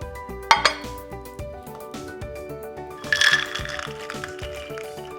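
Cashew nuts tumble onto plates with bright clinking and rattling, a few sharp scattered clatters followed by a second burst of nuts hitting dishes, with background music underneath.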